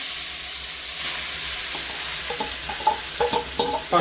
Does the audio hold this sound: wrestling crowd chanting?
no